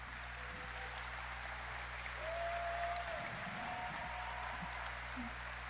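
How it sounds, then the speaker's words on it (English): An audience claps faintly on the Gamescom stage. The soft, distant applause sits under a steady electrical hum, and a few louder bumps break through. "Applause."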